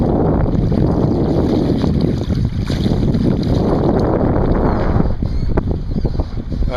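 Strong 15–25 mph wind on a Central Coast lake during bass fishing, a steady, loud roar of gusts buffeting the microphone, with the rush of water beneath it and no pauses.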